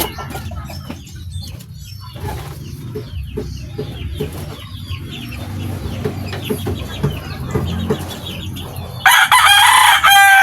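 Backyard chickens with a rooster crowing in a barnyard setting, clucking and crowing repeated over steady low ambient noise, ending with a loud close burst of crowing.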